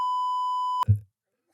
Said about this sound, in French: Oui, c'est un bip.